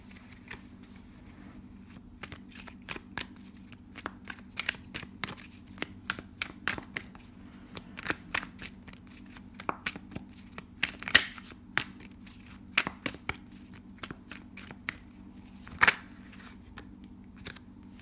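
Tarot cards riffled and shuffled by hand in a quiet room, a steady run of soft papery flicks and snaps over about eighteen seconds, with a couple of sharper card slaps standing out near the end.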